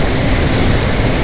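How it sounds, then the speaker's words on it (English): Wind roaring over a rider on a KTM Duke motorcycle at night, a dense, loud, unbroken buffeting rush filling the whole short stretch with no speech. "It is pretty windy, but it's not actually cold"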